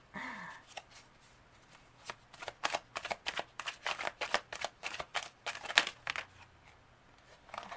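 Tarot cards are shuffled and drawn by hand, making a quick run of crisp riffling slaps and flicks in a steady rhythm, close by, after a quiet start.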